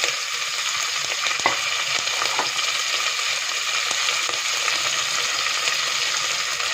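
Chopped onion, green chili, ginger, curry leaves and garlic fry in hot oil with a loud, continuous close-up sizzle, broken by a few soft knocks and scrapes from stirring.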